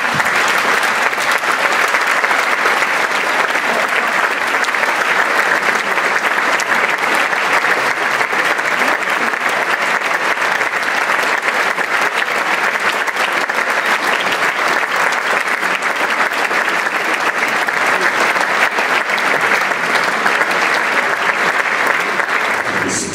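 Sustained audience applause at a school music prize ceremony at a German gymnasium, welcoming a young musician to the stage; dense, even clapping from a large crowd that holds steady throughout, with no talk over it.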